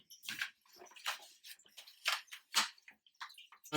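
Bleach pours from a gallon jug into a toilet bowl in short splashing bursts, each glug close and sharp, separated by brief quiet gaps.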